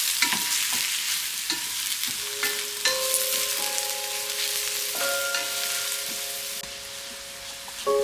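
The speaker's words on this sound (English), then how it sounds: "You're going to saute the onions for around 5 to 7 minutes." Chopped onions and rosemary sauté in olive oil in a pan, giving a steady close sizzle with occasional stirring scrapes throughout, no voices.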